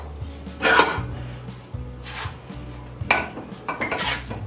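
A hand chisel is hammered against steel held in a vise, giving several sharp metallic strikes at uneven intervals, each ringing briefly over a low background hum.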